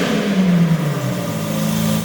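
A Lamborghini Aventador S with a full stainless steel Capristo exhaust, its engine revving loudly up close, pitch climbing then sliding down before settling into a steady throaty drone.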